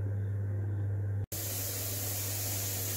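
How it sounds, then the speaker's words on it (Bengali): A pressure cooker boiling potatoes lets out a loud, steady rush of steam hiss over a low hum. The hiss is broken by a brief cut partway through, then carries on unchanged. "আমি যে আলুটা সেদ্ধ বসিয়েছিলাম সেই আলুটা কিন্তু দেখো ছিটি পড়ছে"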